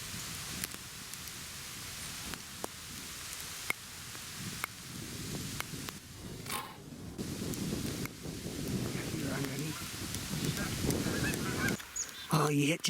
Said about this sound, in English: We got a bunch of geese there.